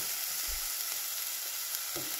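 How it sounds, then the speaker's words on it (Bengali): Chopped onion with grated ginger, garlic and green chilli frying in a pan over lowered heat: a continuous close sizzle with a few soft stirring knocks. "পেঁয়াজ আদা রসুন ভাজা হয়ে গেছে"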